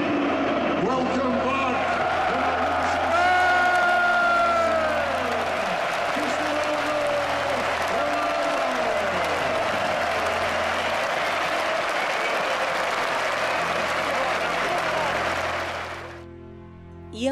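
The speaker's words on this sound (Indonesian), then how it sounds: "Saat pemanasan, suara sorakan, tepuk tangan, dan nyanyian menyambutnya." Stadium crowd cheering and applauding a football player during warm-up, a dense, loud roar of clapping and shouting with rising chants and whistles, sustained throughout before cutting off near the end.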